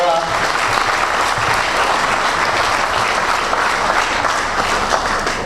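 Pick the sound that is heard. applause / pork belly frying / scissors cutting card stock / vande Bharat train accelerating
applause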